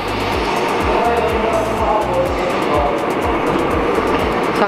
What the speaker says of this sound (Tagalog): Hinahabol yung tren.